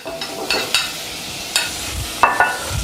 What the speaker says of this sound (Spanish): Le damos un par de vueltecitas, todo junto.